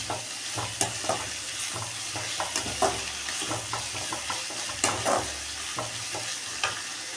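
Turmeric powder is stirred into a cooking tomato rice masala, a soft steady sizzle punctuated by repeated spoon clicks and scrapes against the pan, close and moderately loud.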